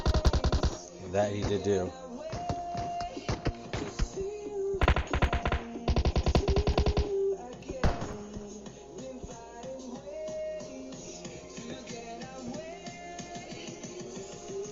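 Video game gunfire during a shooter scrim, bursts of rapid close shots in clusters early on under a commentator's voice, then quieter scattered fire with game tones and talk.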